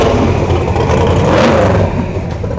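A 1947 Crosley four-cylinder overhead-cam engine of about 135 pounds revs loudly and close by, its steady throaty roar swelling briefly mid-way before settling into a slightly lower drone.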